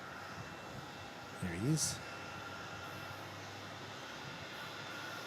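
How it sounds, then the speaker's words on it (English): A Dash 8-400 turboprop from Canberra comes in to land at Melbourne Airport, its engine drone heard faintly and from a distance under a brief spoken remark. "You've got a Dash 8400 about to come in from Canberra"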